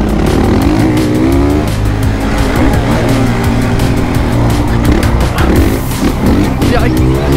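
A Honda motocross bike, either a CR500 two-stroke or a CRF450R, roars hard from a launch-control start. The loud, steady engine note climbs through the gears and stays close throughout.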